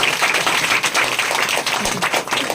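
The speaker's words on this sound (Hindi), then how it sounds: "जोरदार ताली बजाइए परमेश्वर की महिमा के लिए।" A church congregation claps loudly during a Thursday service, a dense, continuous patter of many hands held at an even level for the whole stretch.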